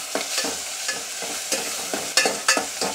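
Cluster bean curry with coarsely crushed peanuts, stirred in a pan with a spoon: repeated close scraping strokes at an uneven rhythm over a light sizzle, with no talking.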